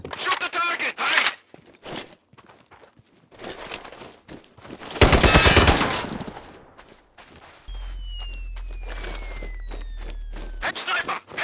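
Gunfire in the video game Sniper Ghost Warrior 3, a few sharp shots followed by a loud burst of rapid fire, mixed with shouted game voices and a later low steady hum.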